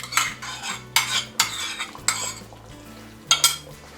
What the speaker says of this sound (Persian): و خوب مکسش میکنم